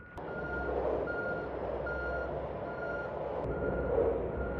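A truck reversing near rail maintenance work in the Mojave sends out a regular series of loud, evenly spaced backup beeps over a low engine rumble.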